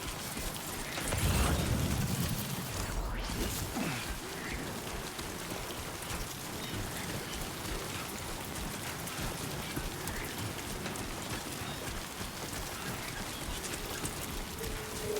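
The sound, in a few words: rain falling in a video game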